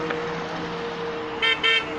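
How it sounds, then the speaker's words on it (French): Car horns honking on a motorway roundabout in support of protesters, two short, loud toots near the end over a steady traffic hum. "Avec des klaxons sur l'autoroute."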